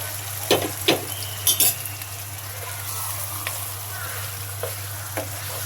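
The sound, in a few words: chicken curry frying in pan with nut and fried onion paste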